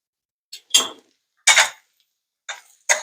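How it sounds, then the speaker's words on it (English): A utensil stirs mushrooms sautéing in butter in a pan, giving four short scraping clatters spaced about a second apart, close by and crisp, with silence between them. "Kind of give it a good stir"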